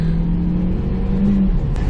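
A manual-transmission car pulls hard through its gears, the engine droning loud and close with a steady mid-pitched whine that climbs slightly, heard alone without talk.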